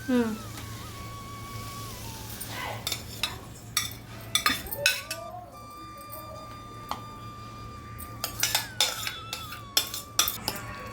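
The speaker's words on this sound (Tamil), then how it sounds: "இதை மிக்ஸ் பண்ணிவிட்டு ஒரு தடவை அடுப்பில் வச்சுருவோம்" A spoon scrapes and clinks against a pot while a wheat rava and potato mixture is mixed, in irregular taps and knocks with a low hum beneath and a voice speaking at moments.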